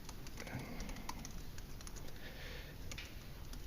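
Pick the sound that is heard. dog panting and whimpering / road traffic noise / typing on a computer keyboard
typing on a computer keyboard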